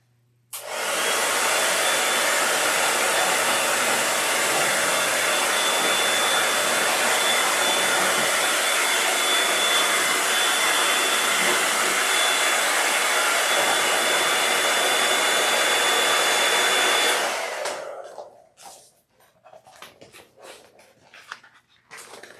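A heat tool roars steadily with loud, close hot-air blowing during a sewing project, running continuously for about seventeen seconds before cutting off, followed by faint rustling and handling noises.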